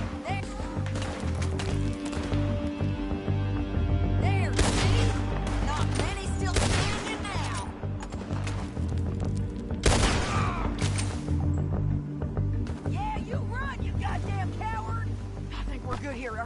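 Gunfire in Red Dead Redemption 2 cracks out in repeated sharp shots across a busy shootout, mixed with game sounds and talking voices.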